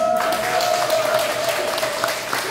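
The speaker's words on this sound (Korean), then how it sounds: "더 많이 벌으라고 박수 한번 쳐요" An indoor audience at a business talk claps together, producing a dense, loud burst of applause that holds steady for a couple of seconds.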